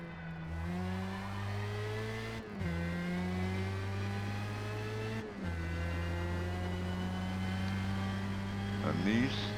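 A Formula Mazda race car in Forza Motorsport howls around the Daytona circuit, its engine note climbing steadily through each gear with two brief shift dips, loud and continuous.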